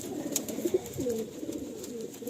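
Rotello pigeons in a loft give soft, low cooing calls in short repeated phrases, fairly close, with a brief sharp click near the start.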